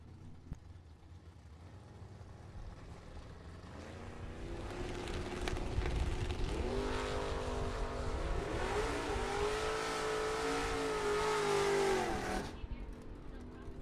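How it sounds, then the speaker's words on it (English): A Chevy II and a Camaro launch in a Super Pro drag race at the strip. Engines build from a distant rumble into a loud, rising wail that cuts off sharply, with an announcer talking over it. "Anybody's drag race at the stripe."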